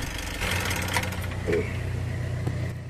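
A Mitsubishi L300 Euro4 van engine idles steadily with a low, even rumble and faint knocking, close by and alone at a moderate level.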